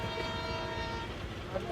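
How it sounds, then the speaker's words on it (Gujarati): A train approaches a roadside where a motorbike rider waits, its sustained tonal horn-like drone faint and distant, growing slightly at the end, with a voice speaking over it. "રેલગાડી આવે છે રેલગાડી"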